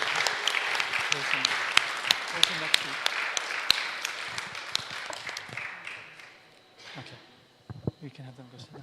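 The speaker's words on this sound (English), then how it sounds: "One more round of applause for our Academy of Lady Graduates" Applause from a legislative ceremony audience honoring Academy of Lady Graduates fills the room with sharp individual claps, then fades out as a voice speaks.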